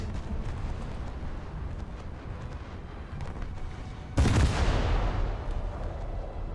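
Naval artillery fire in a warship video game: a sudden loud, heavy boom of a gun salvo with a long rumbling tail over steady background rumble.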